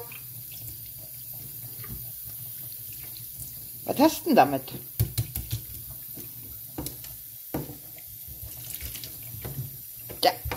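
Water runs from a shower or tap while a dog is being showered, with splashing bursts and a German-speaking voice talking over the steady flow.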